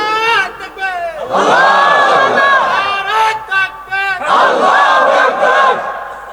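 Young men in a crowd at a Bangladeshi religious sermon gathering shout the takbir in loud, repeated chanted bursts, several voices together with overlapping harmonic calls rising and falling over about six seconds.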